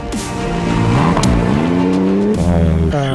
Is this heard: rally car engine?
yes